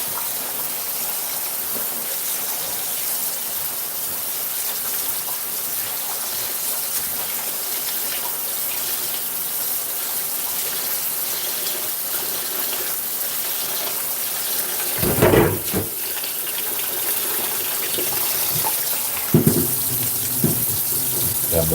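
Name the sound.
tap water running while washing rice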